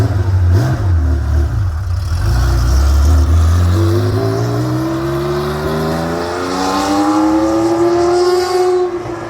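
A Porsche 911 outlaw engine revs loud and close, a deep idle climbing into a rising, harmonically rich snarl that holds and swells again, with no talking over it.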